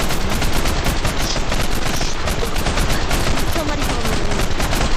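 Sustained automatic machine gun fire in a shooter video game, a dense rapid stream of loud shots running without pause throughout.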